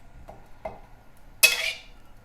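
A couple of soft metallic taps, then a sudden bright sizzle as a little oil hits a hot wok for stir-frying morning glory, hissing briefly before fading.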